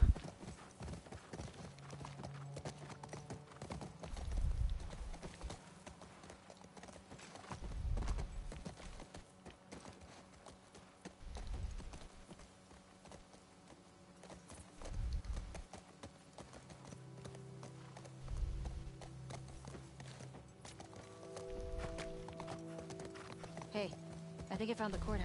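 Horse hooves clip-clop at a steady walking pace in The Last of Us Part II, recurring in soft rhythmic bursts over a low ambient game soundscape, with people talking over it and an occasional faint whinny.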